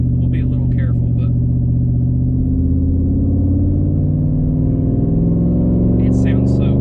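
A 600+ horsepower work truck engine rumbles loud and close, a deep steady idle rising into revs, with people talking over it throughout.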